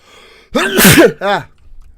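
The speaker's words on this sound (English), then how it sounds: "I gotta sneeze." A single loud, close sneeze with a sharp intake of breath first, followed by a brief voiced sound.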